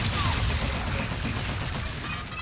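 Rapid automatic gunfire is aimed at a robot in Call of Duty: Infinite Warfare, a dense, continuous rattle of loud shots filling the whole stretch with no pause.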